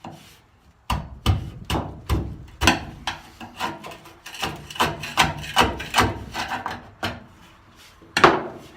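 Rusty seam sealer being chipped out of a Toyota truck bed: a series of sharp, close knocks and scrapes at an uneven pace, loud and alone with no talk.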